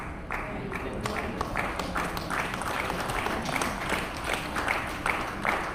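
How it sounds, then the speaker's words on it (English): Church congregation applauding during a sermon, a dense, even patter of many hands clapping at moderate loudness, with a few sharper individual claps and some murmuring voices beneath. "That clapping doesn't look like soldiers are clapping."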